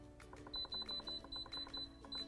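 An Instant Pot electric pressure cooker beeps as its timer is set, giving a quick run of about eight short, evenly spaced electronic tones over a low background hum.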